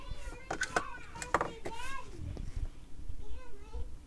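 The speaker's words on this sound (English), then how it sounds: "kids yelling and stuff." High-pitched children's voices shout and chatter in the background, rising in scattered bursts over steady room noise.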